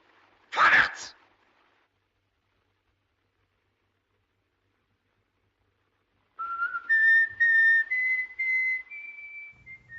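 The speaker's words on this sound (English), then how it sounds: "this ironic whistled tune, Üb immer Treu und Redlichkeit" The folk tune "Üb immer Treu und Redlichkeit" whistled in the film M: a clear, steady melody of sustained notes begins after a brief noisy burst and a long silence.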